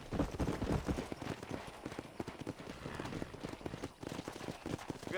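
Horse hooves clip-clop in a steady rhythm on a Red Dead Redemption ride, close and fairly loud, with faint rain-like noise behind.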